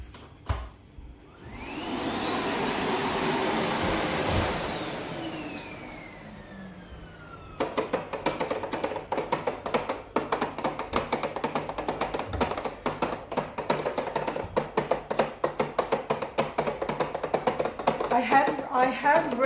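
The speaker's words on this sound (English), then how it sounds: "So I'm now going to turn it back on, and then I'm going to press the clean button, which has just got the separate button, and you'll see what sound it makes." A Miele Blizzard CX-1 Excellence vacuum cleaner starts with a steady whine that rises and falls, then after a pause the clean function kicks in with a dense, rattling, crackling roar that continues close and loud to the end.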